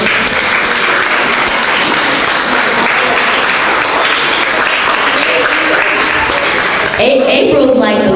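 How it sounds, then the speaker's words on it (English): Audience applause at a youth-led tech graduation ceremony in North Lawndale, loud and dense clapping filling the hall continuously for about seven seconds before tapering, with some cheering mixed in. "Let's give him a big round of applause."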